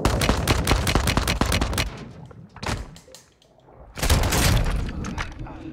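Gunfire in the Modern Warfare 2 campaign, rapid automatic bursts of loud close shots, a short lull with scattered single shots, then another intense sustained burst.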